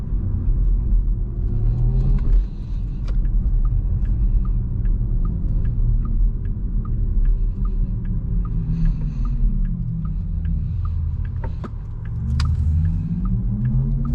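A 2022 Porsche Taycan 4 Cross Turismo, an electric car, on the move with its exterior speakers playing a synthetic drive sound: a loud, steady, deep rumbling hum with tones that slowly sweep up and down.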